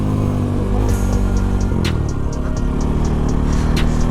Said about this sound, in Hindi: सो साउन्ड चेक करो गाइस, NS 200 का बहुत खतरनाक है गाइस।